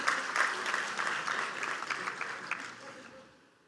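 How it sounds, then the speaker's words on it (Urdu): An audience applauds at the opening ceremony of the Pakistan Literature Festival 2023, with dense, steady clapping that fades away over a few seconds. "تو ان کے لیے بھرپور تالیاں"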